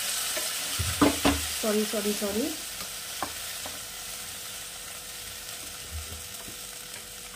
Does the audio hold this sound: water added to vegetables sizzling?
yes